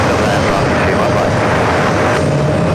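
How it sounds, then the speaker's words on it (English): A big Emirates Airbus A380 jet taxiing at JFK airport, with a steady, loud broadband engine roar filling the clip throughout, close by and continuous. "This is that A380 Super that's going to be heading into gate 7."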